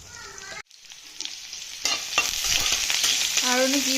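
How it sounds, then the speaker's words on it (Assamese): Chickpeas fry in a hot pan while a spoon stirs and scrapes them, a close sizzle with scraping strokes, no voices. "ইয়াত বুট ভাজিলোঁ"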